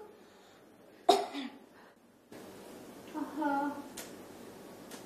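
A child coughs once sharply and loudly, followed by a few weaker throaty hacks, in a quiet room with a short stretch of speech afterward.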